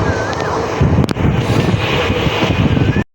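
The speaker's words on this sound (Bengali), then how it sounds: "ট্রেন ছাড়ছে এখন খগড়াঘাট রোড স্টেশন থেকে।" The Teesta Torsa Express, a passenger train, pulls out of Khagraghat Road station and gathers speed, a loud broadband rumble with wind buffeting and a sharp clank, heard close from on board.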